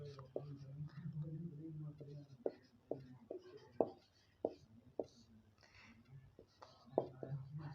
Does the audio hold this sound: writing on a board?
yes